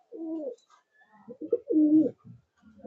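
Pigeons coo in a loft, two long resonant coos with softer throaty murmurs between them, close and clear with no talking.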